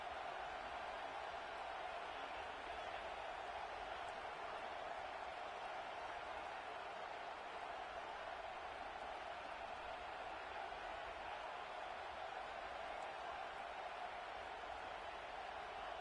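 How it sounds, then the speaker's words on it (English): A large college football stadium crowd at a Miami vs. Georgia game roars steadily, a dense sustained wall of cheering heard from within the stands. "This crowd even louder now on 2nd down as they try to hold on"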